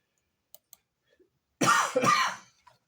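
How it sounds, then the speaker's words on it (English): A single harsh cough from a man with a head cold, with two short bursts close together, loud and near, after a few faint clicks in otherwise quiet surroundings. "I had a little head cold. That's why I coughed."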